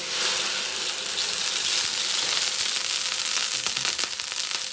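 Hot cooking oil sizzles in a pan before chicken adobo is cooked, giving a loud, steady frying hiss with scattered crackles and pops near the end.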